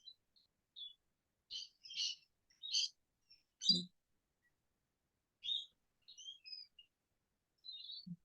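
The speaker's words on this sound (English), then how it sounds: "Including that bird that's singing." A bird sings outdoors in a run of short chirps and tweets, spread irregularly across the stretch with quiet gaps between phrases, fairly faint and distant-sounding with no talk over it.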